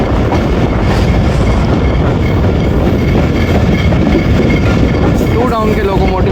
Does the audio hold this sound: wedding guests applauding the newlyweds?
no